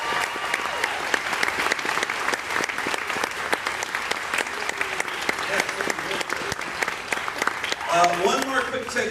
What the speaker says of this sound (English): Round of applause for these two students